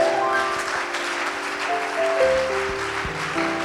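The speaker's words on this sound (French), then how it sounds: "Et acclame le Seigneur" A church congregation claps for the Lord, a steady dense wash of applause while sustained organ or keyboard chords play underneath, fairly loud throughout.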